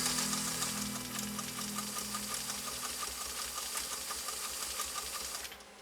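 A PFAFF 360 sewing machine hums through a test run with a rapid steady mechanical stitching chatter, loud and close over a faint background tone, cutting off just before the end.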